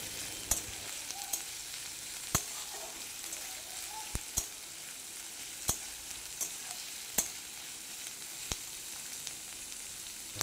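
Chopped onion fries in hot oil with a quiet, even sizzle, broken every second or two by sharp spatula knocks against the pan, close and without talk.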